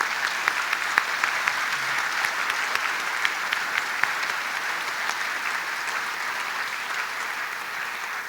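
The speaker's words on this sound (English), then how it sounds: "please join me as we give another round of applause for all of our honorees and for our wonderful choir" An audience at an alumni medallion and service awards ceremony applauds honorees and a choir, steady dense clapping that holds for several seconds without letting up.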